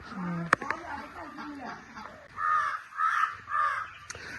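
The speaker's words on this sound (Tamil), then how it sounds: "காக்கா வந்து டெய்லி வருது முட்டை எடுக்கிறதுக்கு ஆமா பாரு இப்ப கத்திட்டு இருக்குது பாரு" A crow caws three times in a row, fairly close, after some brief murmured talk and a sharp knock.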